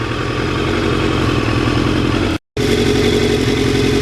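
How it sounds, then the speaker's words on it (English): A 1989 Kawasaki GPZ750R with 37,000 miles runs loud and close through its muffler on a hot day. The engine rumbles steadily, cuts out briefly for a fraction of a second, then resumes at the same even idle. "What a a beautiful sound coming out of that fuzzy muffler."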